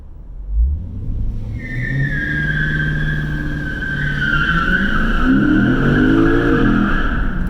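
A Lexus GS F with traction and stability control switched off revs hard while its tires skid, a loud sustained squeal layered over a rising engine note that climbs steadily throughout, close and with no talking.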